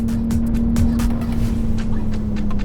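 A Hyundai Ioniq 6N electric sports car plays a steady synthetic combustion-engine drone, a constant hum with faint road rumble underneath, heard without talk.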